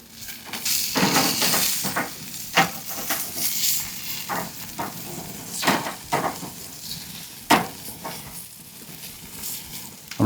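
Picanha sizzling on the hot section of a braai grill, a steady close crackling hiss with sharper pops and spits at irregular moments and no talking.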